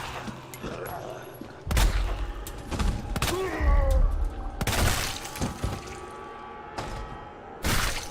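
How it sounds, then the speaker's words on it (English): Enemies bursting into blood sacks in the Resident Evil 2 Remake video game, several loud wet splattering bursts and shattering impacts spread across the stretch, between quieter gaps with some faint voice. "The way they explode into blood sacks is fascinating."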